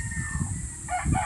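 Gamefowl chickens of a national line crow and cluck on a farm in Tanauan, Batangas, a short burst of fowl calls standing out over steady outdoor background noise.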